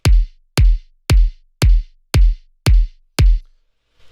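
Two kick drum samples layered into one hit thump seven times in a steady, even beat, each pairing a deep low-end boom with a brighter clicky top, close and punchy.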